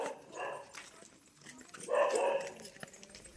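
Several dogs bark in two short bursts at close-to-moderate range, separated by a quieter gap, with faint background voices.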